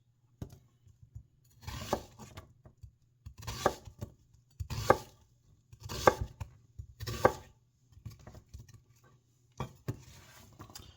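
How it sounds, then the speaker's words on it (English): A knife chops vegetables into half moons on a board in quick bursts of several crisp cuts each, separated by short pauses, close and clear with a faint background hum. "we're going to be cutting these just half moons"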